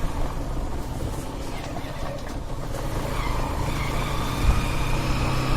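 A car drives slowly along a rough, winding village road near a temple in Palghar, with a steady engine rumble and bumpy road noise throughout, close and fairly loud.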